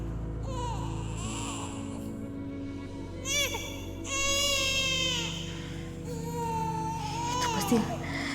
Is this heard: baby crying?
yes